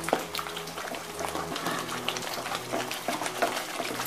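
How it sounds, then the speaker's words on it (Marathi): Fish curry masala simmering in a covered pan on a low gas flame, a steady close bubbling burble with soft pops and a faint low hum beneath. "आता ह्याला आपण मसाला चांगला शिजू द्यायचा आहे।"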